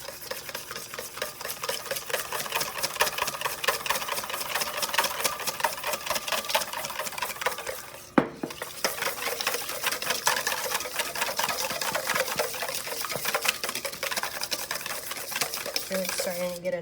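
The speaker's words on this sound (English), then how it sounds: "whisking that fat in" Fat being whisked into a mixture makes a fast, continuous rattling whir that carries on without a break, dips briefly about halfway through, then resumes.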